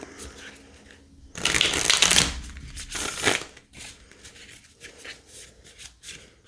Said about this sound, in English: we're done shuffling